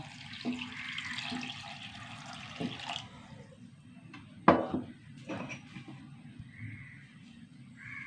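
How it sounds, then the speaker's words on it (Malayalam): Water splashes into a cooking pot in a short, soft pour lasting a few seconds, followed by faint clinks and kitchen handling sounds nearby. "കുറച്ച് വെള്ളം ഒഴിച്ച് കൊടുക്കട്ടോ"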